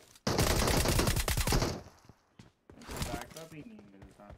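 A long, rapid burst of automatic gunfire in PUBG Mobile cracks loud and close, then a few scattered sounds follow and a voice talks near the end.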